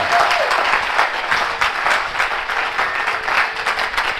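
A church congregation applauds and cheers for Jesus during a restoration service, with dense, sustained clapping that stays loud and close from start to finish.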